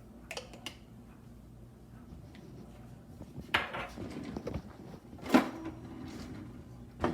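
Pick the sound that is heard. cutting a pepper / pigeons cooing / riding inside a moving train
cutting a pepper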